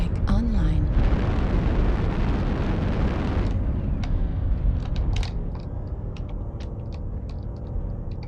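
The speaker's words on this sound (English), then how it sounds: "Target artillery strike online." An artillery strike in MechWarrior Online, a heavy roaring explosion rumble for a few seconds that fades into scattered smaller pops and crackles, with voices talking over it.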